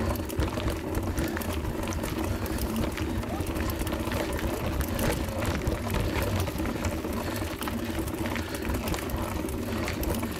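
Rushing water and splashing fill the scene as a man pours river water over himself in the Río La Vieja during a mountain-bike crossing in Quindío, a continuous close churning wash with voices mixed underneath.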